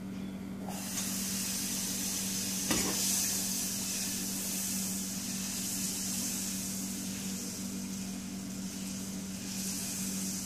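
Three tablespoons of cut butter hissing and sizzling steadily in an overly hot pan, a continuous close, bright sizzle with a faint clink early on.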